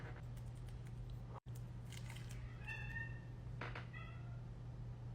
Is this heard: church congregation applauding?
no